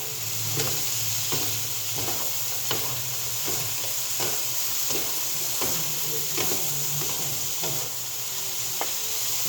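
Sweet Thai pork cubes sizzle steadily in a hot pan while a utensil stirs them, giving regular scraping knocks roughly every second over the continuous hissing fry, close and moderately loud.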